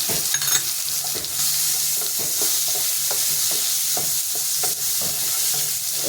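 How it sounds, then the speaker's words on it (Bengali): Slices of home-grown eggplant with salt and turmeric fry in a pan with a bright, continuous sizzle, overlaid by regular soft taps and scrapes of stirring. "ভাজা হচ্ছে, আস্তে আস্তে ভাজা হোক।"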